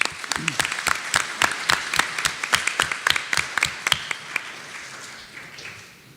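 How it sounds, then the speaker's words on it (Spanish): Applause from a group at a medical round-table session, with distinct loud claps standing out in a steady rhythm, gradually thinning and fading toward the end. "un fuerte aplauso, por favor, para ellos"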